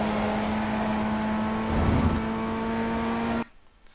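A Ray FF1600 open-wheel race car in iRacing at Zandvoort accelerates, its engine a loud steady drone that swells slightly mid-way before cutting off abruptly near the end.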